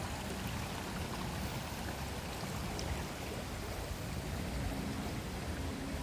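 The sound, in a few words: water flowing from the resort down to the swimming pool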